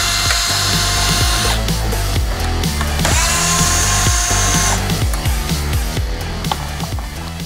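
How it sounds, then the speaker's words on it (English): A power driver backs out the four T15 Torx screws holding the headlight on a Jeep Wrangler JK, its whirring coming in two steady bursts of about a second and a half each under continuous loud backing music. "to remove the existing headlight, we're gonna remove these 4 T15 Torx screws"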